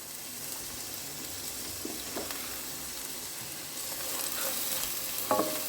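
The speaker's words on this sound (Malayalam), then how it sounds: "ഇതൊന്ന് വഴന്ന് വരട്ടെ നമ്മുടെ സബോള പച്ചമുളക് വെളുത്തുള്ളി കറിവേപ്പിൻ്റെ ഇല വഴണ്ട് വന്നിട്ടുണ്ട്" Sliced onion, green chili, garlic and curry leaves sautéing in a pan, a soft steady sizzle with occasional light scrapes from stirring, fairly quiet and close.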